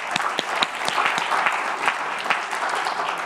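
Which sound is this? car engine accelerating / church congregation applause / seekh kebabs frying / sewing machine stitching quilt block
church congregation applause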